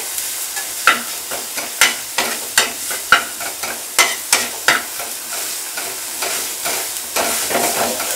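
Spices and fresh green coriander are stirred in a hot frying pan, with a spoon scraping in regular strokes about once a second over a soft, steady sizzle, close and clear, no voices.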